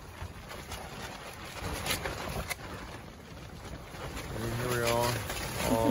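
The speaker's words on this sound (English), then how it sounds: "Enduring extremely high winds in our tent." Strong wind gusts buffet a tent in Death Valley, rising and falling in roaring, flapping surges close to the microphone, with a voice speaking near the end.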